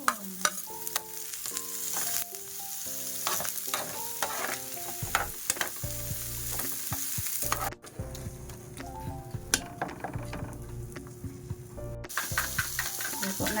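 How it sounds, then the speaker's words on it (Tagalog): Tortang talong, an eggplant omelette with egg, fries in a pan with a steady sizzle, broken by scraping stirs and clinks of a utensil against the pan, with a few louder knocks near the start and end. "Magluto kog tortang talong."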